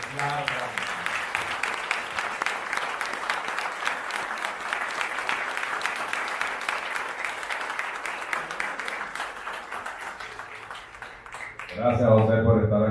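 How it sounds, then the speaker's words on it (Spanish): A crowd applauds steadily for several seconds, a dense patter of clapping that fades before a voice begins speaking. "Un aplauso, un aplauso."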